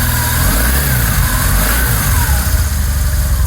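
A BMW R1200 C cruiser motorcycle, the Bond bike, runs while warming up, its engine held at a steady loud rumble with gentle rising and falling revs close by.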